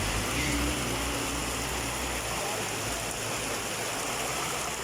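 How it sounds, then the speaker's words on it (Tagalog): Heavy rain pours down steadily, a dense, even hiss of water that fills the whole scene without letup. "Grabe, lakas po ng ulan."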